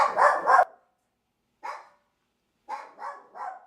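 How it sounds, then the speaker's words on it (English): A dog barks in short sharp bursts, two quick barks first, then a single one, then three in a row, close and loud with silent gaps between them. "And there's my dog."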